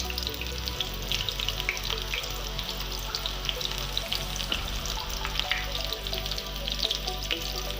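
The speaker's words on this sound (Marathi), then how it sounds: "तेल छान तापलेलं आहे आता एक मिडियम साईजचा कांदा सोडते कांदा मस्त हलकासा परतून घेते" A medium-sized onion frying in hot oil for a spicy curry, a continuous crackling sizzle up close with a steady low hum beneath it and no talking.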